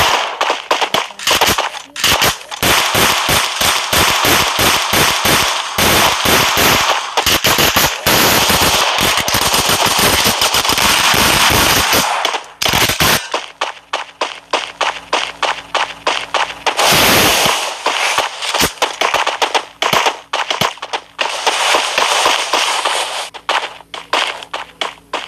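Video game gunfire, dense rapid automatic bursts that run almost without a break for about twelve seconds, then thinner, choppier volleys of shots, loud and close with no talking.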